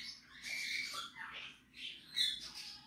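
A tame, hand-raised pet bird gives several shrill squawks and chirps in uneven bursts at close range indoors, with no talk over them.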